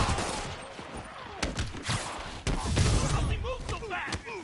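Gunfire from the Marvel's Spider-Man video game: rapid bursts of shots and heavy thuds crackle through a dense, loud action mix for several seconds, with no clear talk.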